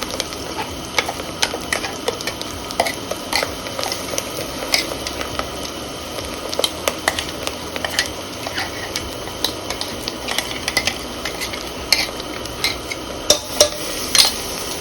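Ground masala paste frying in a pan for a goat head curry while a spoon stirs it, steady sizzling broken by frequent sharp scraping clicks of the spoon against the pan.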